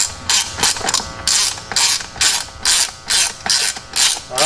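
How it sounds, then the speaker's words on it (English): Rapid ratcheting clicks as seat base bolts are tightened snug by hand, the clicks coming in quick bursts of short strokes with brief pauses, close and fairly loud. "You just want to make sure that you're torquing these down nice and snug, nothing Superman strength."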